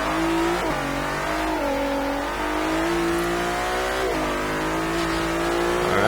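Bentley EXP 10 Speed 6 concept car in the racing game Forza Horizon 3, a loud close engine rising and falling through gear changes with steady revving, pops and bangs not distinct.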